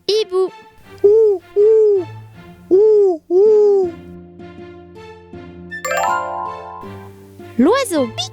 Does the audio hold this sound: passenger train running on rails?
no